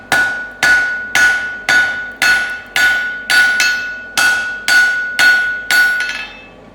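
Hammer blows ringing on hot steel stock while forging wolf jaw tongs, about a dozen sharp, evenly spaced metallic strikes, loud and close with no talking.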